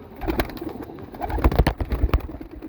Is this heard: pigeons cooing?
yes